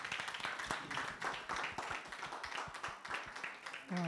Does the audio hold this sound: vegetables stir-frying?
no